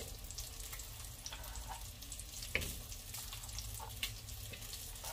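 Bacon sizzles in a pot as the base for a chunky garden vegetable soup, a steady close crackle with a few louder pops and stirring sounds, no voices.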